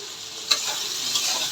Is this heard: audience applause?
no